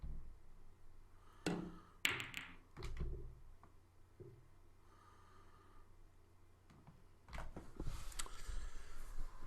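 Pool cue strikes and ball clacks in the Virtual Pool 4 online billiards game: a few sharp, separate knocks and taps, with a quiet stretch between them and a denser cluster of clicks near the end.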